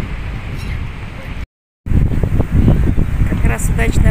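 Strong wind in Mersin roars and buffets the microphone in a loud, constant rumble, briefly cutting to silence, with a voice speaking underneath.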